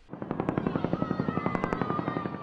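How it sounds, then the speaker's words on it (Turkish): Cobra military helicopters fly overhead during clashes in Diyarbakır, rotors thudding in a loud, fast, steady beat with a whining turbine tone, heard alone. "Kobra helikopterleri de teröristlerin bulunduğu noktaları yoğun ateş altına aldı."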